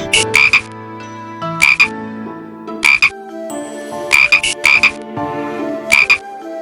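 Loud, close croaks like frogs, made by students, in short bursts, about eight of them in an uneven rhythm, over sustained musical tones.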